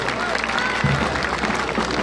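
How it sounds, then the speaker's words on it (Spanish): An audience applauds at a marinera norteña and caballo de paso homage event in San Pedro Chilcayoc, Lima, with dense, steady clapping from a crowd. A voice carries over the applause throughout. "Venga la palma fuerte, fuerte los aplausos."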